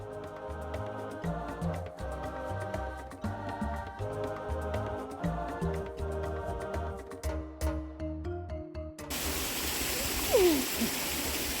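Rushing water from a waterfall and stream at Patagonia hot springs comes in as a steady broadband roar over the last few seconds, after a stretch of music.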